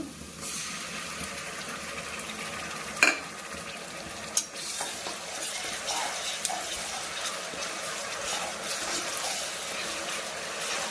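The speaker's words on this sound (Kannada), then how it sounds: "ಸೊ ಈಗ ಶುಂಠಿ ಬೆಳ್ಳುಳ್ಳಿ ಪೇಸ್ಟ್ ಕೂಡ ಹಾಕೋಣ." Ginger garlic paste fries in a pan, sending out a steady close sizzle with a few sharp knocks and scrapes from stirring, moderately loud and without speech.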